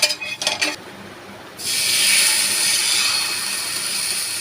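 A few light clinks and scrapes, then a loud, steady hiss as vegetable batter is spread on a hot oiled griddle and keeps sizzling.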